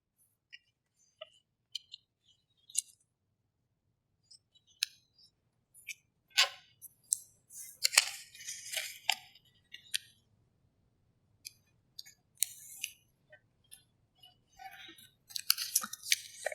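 Paper heart pieces for a pop-up valentine being folded and creased by hand, giving scattered soft crinkles and sharp crisp taps in short bursts, close up, with quiet gaps between them and no talking.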